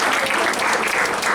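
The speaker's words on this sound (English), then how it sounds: "So a round of applause once again for all the speakers we have." A crowd applauds at a medical school white coat ceremony in Dominica, a dense steady wash of clapping hands throughout, fairly loud with no voices on top.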